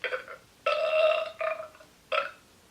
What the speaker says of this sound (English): wonderful belch.